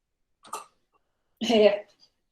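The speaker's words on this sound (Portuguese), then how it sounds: "tá todo mundo aqui em casa tossindo um pouquinho" Two short coughs, a small one followed by a louder, harsher one, close by in a quiet room.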